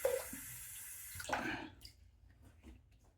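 A brief gush of cold water from a tap, splashing loudly for about a second and a half before trailing off into quieter drips and trickles.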